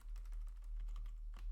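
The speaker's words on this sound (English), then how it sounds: "and then we type in the address," Quick keystrokes on a computer keyboard as a web address is typed, a short, close, steady run of light taps.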